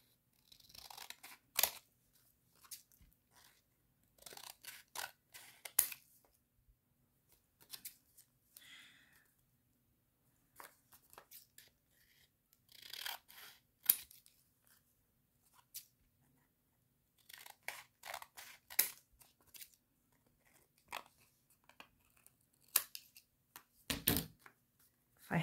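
Scissors snip through ribbon or fabric during a craft project, producing scattered short bursts of cutting and rustling with quiet pauses between, close and fairly soft.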